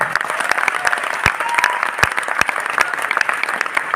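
Steady audience applause fills a hall at a motivational sales gathering, dense continuous clapping with a few sharper individual claps standing out, loud and unbroken throughout.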